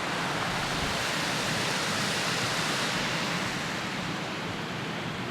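Loud, steady rushing water flows at an old mill site in a state park, a dense unbroken roar close by with no voices over it.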